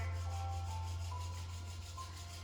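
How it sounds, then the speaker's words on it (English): Palms rub together during a restorative yoga practice, giving a soft, quiet, continuous swishing friction over a low steady hum. "Begin rubbing those palms together."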